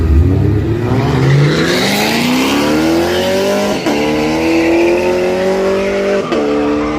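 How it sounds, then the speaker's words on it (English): Straight-line street cars race past loudly at a drag event, engines rising steadily in pitch through hard acceleration with brief gear-shift dips and a touch of tire squeal. "Look out, racing."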